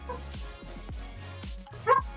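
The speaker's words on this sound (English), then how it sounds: "Oh, my dog is dreaming." A sleeping dog whimpers and lets out soft yips while dreaming, in a short run of small, close, muffled sounds with one louder yelp near the end.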